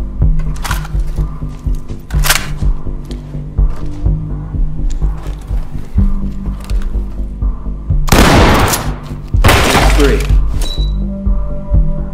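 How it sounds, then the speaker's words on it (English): Loud gunfire and a flashbang boom during a SWAT room breach in Ready or Not, several sharp bangs with two heavy blasts near the end over constant game rumble. "Shotgun bang and clear."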